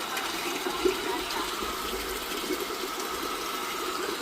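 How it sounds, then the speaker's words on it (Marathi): Water pump motor switched on by a mobile auto starter runs with a steady hum while water gushes and splashes, close and continuous, with a brief clunk near the start. "बघा मोटर स्टार्ट झालेली आहे."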